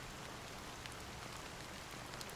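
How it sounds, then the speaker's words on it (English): Rain falls steadily in the Honkai Star Rail video game, a faint, even hiss of drops on a surface with no other sound. "how long has this rain been going on for?"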